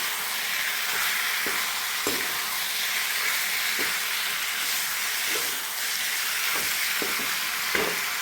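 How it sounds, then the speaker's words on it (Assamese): Meat fried with onion, potato and spices in a pan, stirred with a spoon: a steady close sizzle runs throughout, with soft scraping knocks at irregular intervals as the mixture is turned. "এতিয়া মছলা দি দিছোঁ আৰু এইখিনি ভালদৰে মিক্স কৰিব লাগিব"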